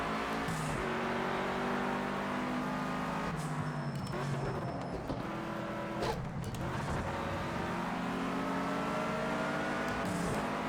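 A Cosworth race car engine in Project Cars 2 drones loudly and continuously, its pitch climbing and dropping through gear changes and revs, close up with no talk.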